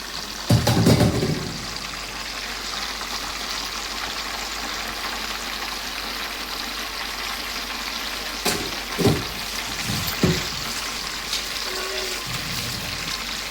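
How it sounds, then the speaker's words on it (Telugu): Fenugreek seeds fry in oil in a pan, a steady, close hiss and sizzle that runs through the whole stretch, broken by a few louder clatters near the start and middle. "ఇట్లా ఇవన్నీ చక్కగా ఈ మెంతులు ఇలా నూనెలో ఉడికితే బాగుంటాయండి"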